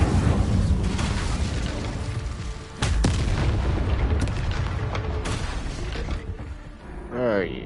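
Incendio fire spell from Hogwarts Legacy, a loud booming blast with continuous roaring crackle and several sharp bursts near three and five seconds, sustained throughout and fading slightly at the end.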